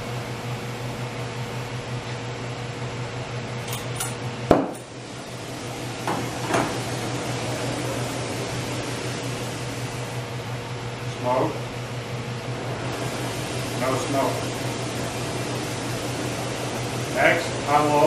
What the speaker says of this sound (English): Next, I will open acetylene needle valve quarter turn, light, adjust to no smoke.